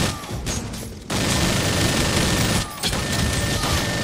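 Rapid sustained minigun fire in the shooting video game R.I.P.D. The Game, a dense loud continuous burst with two short pauses breaking the stream, with no talking.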